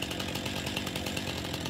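Continuous, loud chainsaw drone from Farming Simulator 19 as trees are cut, a steady close buzzing engine with no talk.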